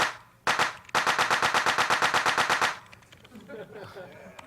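A crude drum fill from a tracker song: a fast, even burst of about twenty sharp, noisy hits in rapid succession lasting around two seconds, then a quieter, murkier passage afterward.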